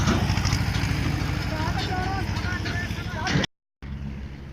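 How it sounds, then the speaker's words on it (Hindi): A tractor engine runs in the mountain pilgrimage town of Kedarnath, a steady throbbing rumble close by. Someone talks over it, and the sound cuts out briefly near the end. "ये ट्रैक्टर चल रहा है यहाँ केदारनाथ में।"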